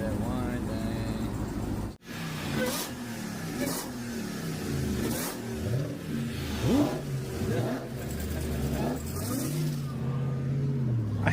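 Close, loud revving from a Dodge Ram TRX or Jeep Trackhawk V8 at a car meet: repeated throttle blips rise and fall over a rumbling idle, with people talking throughout.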